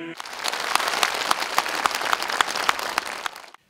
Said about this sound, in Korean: 관객들의 박수갈채가 쏟아집니다.